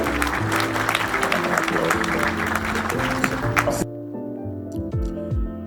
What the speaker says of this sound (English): please a round of applause for Mr. Joe Mensah